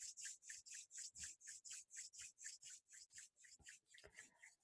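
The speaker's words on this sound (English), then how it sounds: "Let's go ahead and rub our hands together." Hands rubbed briskly together during a yoga meditation class, a close, quiet series of about fifteen even swishing strokes in a steady rhythm, heard alone.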